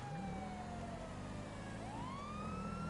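Emergency vehicle sirens in GTA Online wail in long rising and falling sweeps over a steady traffic rumble, loud and continuous, with no talk.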